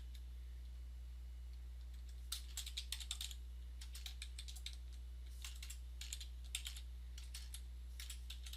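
Keys on a computer keyboard clack in quick bursts of typing separated by short pauses, faint over a steady low hum.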